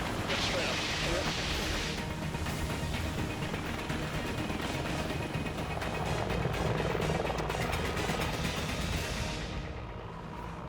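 A rescue helicopter hovers over ground too soft for landing, its rotor roar loud, steady and continuous throughout.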